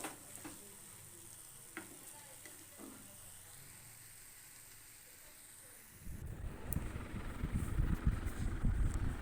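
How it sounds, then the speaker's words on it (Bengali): Meat and potato filling for potato chops frying in a pan, a steady soft sizzle with occasional stirring scrapes, then a louder, denser crackle toward the end. "মাংস আর আলু ফ্রাই হয়ে গেছে।"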